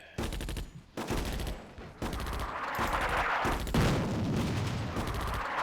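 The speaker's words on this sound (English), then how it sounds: "others obviously disorganised by the artillery fire" Artillery and small-arms fire in the North Africa war game Attack at Dawn: Operation Sonnenblume, with bursts of rapid machine-gun fire broken by short gaps and then a heavy, continuous barrage with booming impacts.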